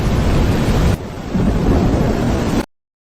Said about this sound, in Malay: Badai ini yang terbesar yang pernah aku lihat seumur hidup.